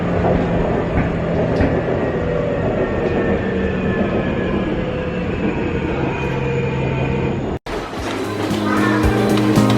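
A light rail train in Busan rumbles steadily along the rails with a rattling, rhythmic clatter, briefly cut off near the end before the rolling noise resumes.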